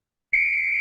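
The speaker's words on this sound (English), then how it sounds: "When you hear the whistle, every minute, stop and check the screen." A single sharp whistle blast signals a change during a class exercise, starting abruptly and holding a steady, piercing tone without any talk over it.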